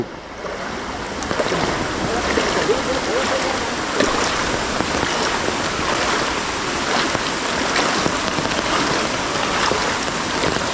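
Steady, dense rain pours down with a constant broad hiss, loud and close, with occasional voices faintly underneath, during a major flood in Ratnagiri.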